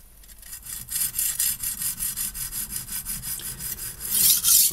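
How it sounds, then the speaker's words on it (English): Rhythmic back-and-forth strokes of a blade drawn across the ceramic stone of a HORL 2 rolling knife sharpener, a steady close rasping scrape repeated about twice per second with no talk. "I'm now going to swap away from the diamond and use the standard ceramic stone that it comes with."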